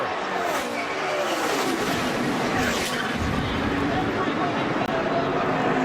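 Loud NASCAR stock car race with a multi-car wreck, engines roaring continuously as cars skid and collide, under an excited commentator's talk and crowd noise.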